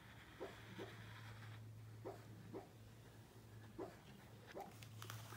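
A sleeping dog dreams, letting out a series of soft, brief yips and muffled whimpers in pairs at regular intervals, quiet against a low steady indoor hum.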